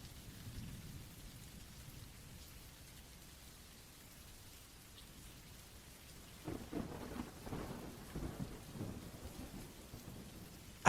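Steady rain pours down over a cabin in the woods at night, with low rumbles of thunder rolling in more strongly in the second half, all without any voices.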